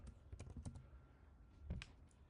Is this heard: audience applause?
no